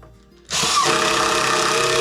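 Power tool drives a lag bolt into a snow pusher, starting abruptly after a quiet moment and running as a loud, steady whirring buzz close to the microphone.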